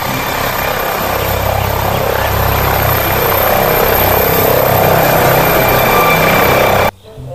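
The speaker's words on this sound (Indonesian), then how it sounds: "Wow, ada helikopter." A helicopter passes overhead as a steady, loud rotor and engine drone, heard continuously with no talk until it cuts off abruptly near the end.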